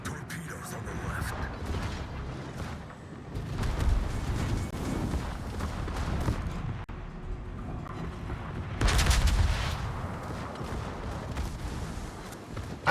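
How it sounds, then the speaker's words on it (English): Naval guns thunder in a World of Warships battle against the cruiser Azuma, deep rumbling salvos and booms rolling under a steady background roar, louder bursts near the start and again later on. "I don't know why I'm shooting at the Azuma"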